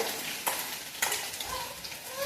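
Green chilli, garlic and cumin paste sautéing with fenugreek greens in a pan, a steady sizzle with a couple of distinct spatula scrapes, close and free of speech.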